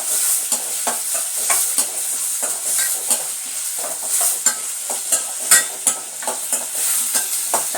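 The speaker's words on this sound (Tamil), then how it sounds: "தக்காளியும் நல்லா வதங்குற வரைக்கும் வதக்கி விட்டுக்கலாம்" Chopped tomatoes being sautéed and stirred in a pan for kovaikai kuzhambu, a steady close sizzle broken by frequent scraping stir strokes, with no talking.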